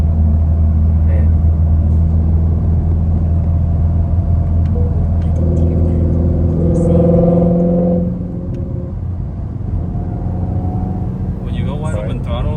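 A twin-turbo Ford Mustang GT350 engine rumbles loudly at wide open throttle, its tone climbing before easing off around the eight-second mark, with people talking over it inside the car.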